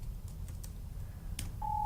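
A mobile phone notification goes off during a live webinar: a few soft taps, then a short, steady electronic tone near the end, faint over low room noise.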